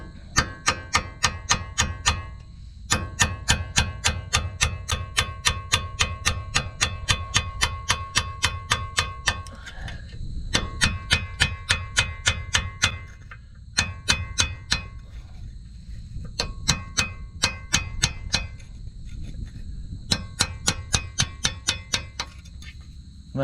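A hammer taps a punch to drive a pin out of a Coachmen motorhome's front disc brake part: sharp metallic taps in quick, steady runs with brief pauses between bursts, close and clear.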